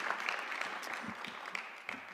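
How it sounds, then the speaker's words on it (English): An audience at a nursing pinning ceremony gives a brief, soft round of applause, a faint scattered patter of hands at some distance that continues evenly throughout. "we'll give you a little round of applause"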